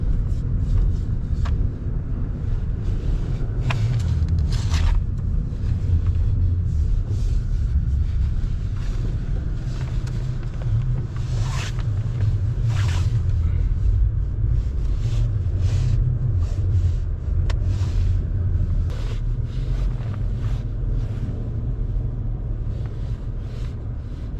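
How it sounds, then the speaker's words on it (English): A truck engaged in four-wheel drive rolls through unplowed snow, a deep steady engine rumble with wind-like noise and occasional crunches and knocks, continuous and fairly loud throughout, without speech. "we're gonna put that in 4-wheel just to be sure, because I did not snow blow out here"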